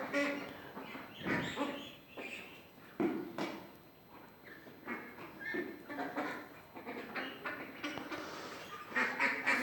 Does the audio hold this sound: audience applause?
no